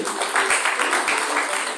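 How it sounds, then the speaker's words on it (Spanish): A church congregation bursts into applause for the Lord during a Spanish-language sermon, a steady wash of many hands clapping together, fairly loud and close, with rhythmic accents running through it. "Denle un aplauso al Señor"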